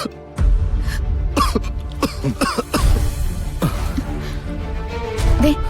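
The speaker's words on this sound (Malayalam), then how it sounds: "നന്നായിട്ട് ചുമക്കുന്നുണ്ടല്ലോ" A man coughs repeatedly in harsh, throaty bursts, close and fairly loud, with short pauses between the fits.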